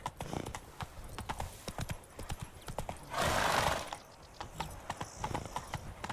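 Roach, the horse in The Witcher 3, gallops with rapid, rhythmic hoof clops and gives a loud neigh partway through, then the hoofbeats continue close and clear.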